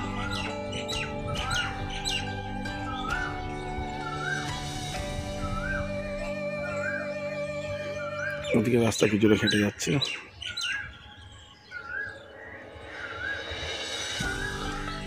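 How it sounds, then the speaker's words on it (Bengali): Koel and assorted birds calling around an empty railway platform at Belmuri station, repeated squawks and chirps at middle distance, with someone speaking over them and a louder burst of calls midway. "কোকিল ডাকছে, কত রকম পাখি ডাকছে"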